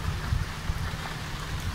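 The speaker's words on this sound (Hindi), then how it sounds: "अब अल्हम्दुलिल्लाह जो है ना बारिश आ गई और मौसम जो है ना काफ़ी खुशगवार हो गया है" Heavy rain pours steadily onto a village rooftop during a downpour, a dense, even hiss close around with no voices.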